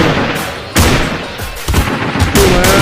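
Loud, sharp rifle gunshots from a Kar98 bolt-action rifle in a chicken-themed shooter video game. Several close shots ring out about every half second to second.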